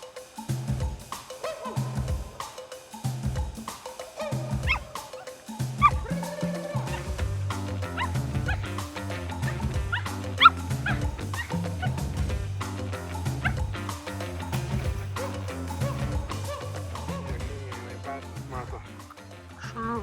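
Hunting dogs barking in short repeated yips and whimpers, a rhythmic string of close, sharp calls that grows busier and more continuous partway through, with a person talking at times.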